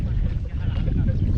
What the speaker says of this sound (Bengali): আমাদের অবসরপ্রাপ্ত মাঝি আজকে নৌকা চালাচ্ছে